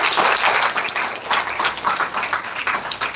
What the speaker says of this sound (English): Can we have a big round of applause to the resource person, Dr. ARUN.